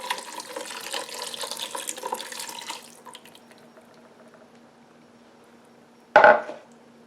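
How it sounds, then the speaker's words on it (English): Broth pours steadily into a Ninja Speedi cooker pot for about three seconds, then trickles off into near quiet before a single sharp clunk near the end. "All right, we're just gonna pour that in, the broth."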